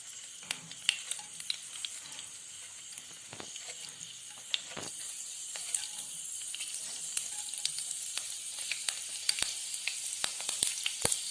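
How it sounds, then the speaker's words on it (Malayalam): Mustard seeds spluttering in hot oil in a pan while making Kerala-style bitter gourd pachadi: a steady close sizzle studded with sharp irregular pops and crackles throughout, no voices. "പാനിൽ എണ്ണ ഒഴിച്ച് ചൂടാകുമ്പോൾ കടുകിട്ട് പൊട്ടിക്കുക."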